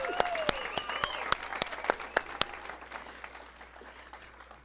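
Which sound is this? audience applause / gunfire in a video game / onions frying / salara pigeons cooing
audience applause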